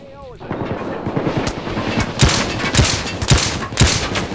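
Gunfire in the video game PayDay 2: loud, close bursts of automatic weapon fire repeat in a rapid, uneven rhythm, each shot sharp and punchy over a steady game background.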